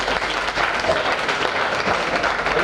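An audience at a Bhagavat Katha religious gathering breaks into loud, sustained applause, a dense wash of many hands clapping together without pause for a few seconds.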